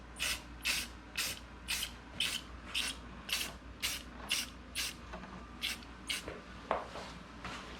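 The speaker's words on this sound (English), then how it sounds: "shake up the old rattle can and get back about 12 inches and start spraying" A spray paint can hisses in a steady series of short bursts, about a dozen evenly spaced sprays on an apple wood end grain bowl, close by with no talking.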